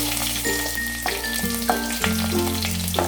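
Chopped onions frying in coconut oil in a clay pot over a medium flame, a steady close sizzle with occasional stirring scrapes under soft background music.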